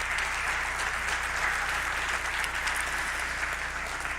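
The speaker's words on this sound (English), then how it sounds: "Give them a round of applause, please." A sports awards audience applauds school staff in a steady, moderately distant wash of many hands that holds evenly for several seconds, with no talk over it.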